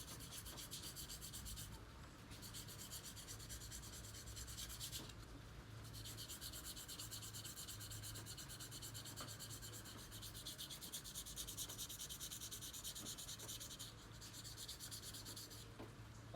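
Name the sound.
sanding scooter CVT clutch lining with sandpaper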